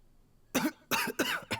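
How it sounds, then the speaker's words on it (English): Several short, harsh coughs from a video game character in a quick cluster after a brief quiet moment, close and fairly loud, with no talking. "he is coughing all the dang time"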